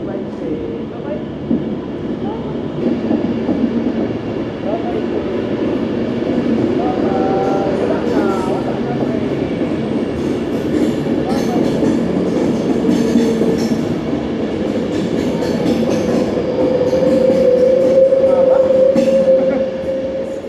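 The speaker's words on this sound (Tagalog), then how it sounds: "Bye-bye, train 10!" A train rumbles past a station platform, loud and close, with a steady low roar, rattling wheels and a rising squeal near the end, while people chatter nearby.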